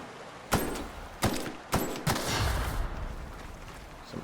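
Gunfire in The Outer Worlds: four sharp, loud shots spaced roughly half a second apart, each with a short ringing tail, then fading reverberation.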